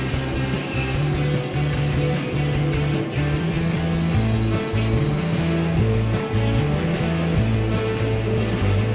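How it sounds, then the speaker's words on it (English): A rotary tool fitted with a saber tooth cutting burr roughs out a wooden bird of prey carving, giving a steady, loud, close whine and grinding buzz with shifting pitch as the burr bites into the wood, and no voices. "For the rough out stages, I use saber tooth cutting burrs."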